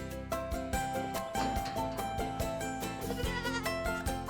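Goats on a farm with about 250 adult animals bleat repeatedly, overlapping calls in a steady, fairly loud chorus with no talking.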